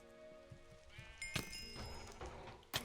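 Sheep bleat in the video game Sheep Wars, a few wavering, nasal game-sound bleats punctuated by two sharp, bright impacts, with no voices.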